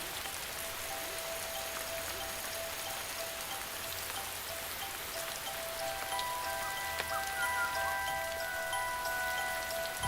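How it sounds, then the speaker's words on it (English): Steady rain falls in an Andes cloud forest, a dense, even patter of drops on leaves filling the scene throughout, with a few thin birdcalls faintly threaded through the later part. "Most days in the forest, the clouds dump their rain, up to 10 meters every year."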